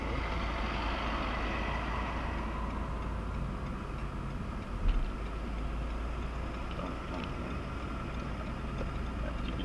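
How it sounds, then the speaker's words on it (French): A car's left turn signal ticks in a steady, even rhythm over loud, constant road and engine rumble inside the moving car during a French driving lesson. "On continue, clignotant à gauche"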